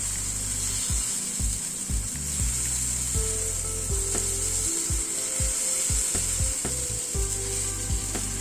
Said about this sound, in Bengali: একটু হাতাটা দিয়ে ছড়িয়ে দিচ্ছি।